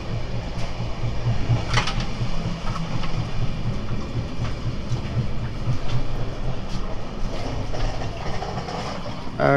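A steady rumbling interior of a long-distance Sealdah-to-Delhi express train, wheels clattering rhythmically on the rails with a constant low drone and occasional rattles, loud and continuous.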